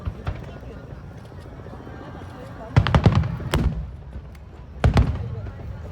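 Fireworks bursting at the Naniwa Yodogawa fireworks festival, with a few sharp, fairly close booms in two clusters while people nearby talk over the crowd murmur.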